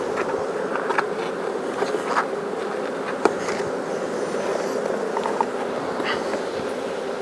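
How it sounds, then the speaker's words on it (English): Honeybees in an open hive make a steady, dense buzzing hum close by, with occasional louder passes of single bees and no talk. "A lot of bees."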